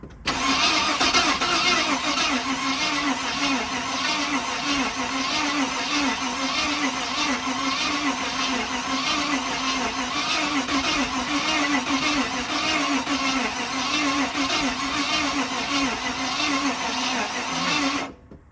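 An old Ford OBS pickup truck with likely bad spark plugs cranks over in a loud, rhythmic, laboring churn that runs on for many seconds, close by and without talk.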